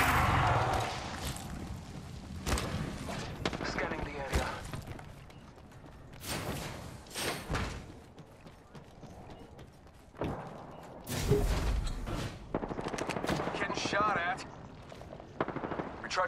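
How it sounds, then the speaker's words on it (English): Gunfire in the shooter game Apex Legends, with repeated bursts and single shots at varying distances, mixed with mechanical clanks and game effects while a player talks over parts of it. "So they got shots fired at me."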